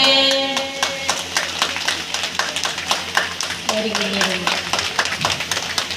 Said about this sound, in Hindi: बीच बीच में ताली मार के सब जो सोए उसको जगाते जा रहे हैं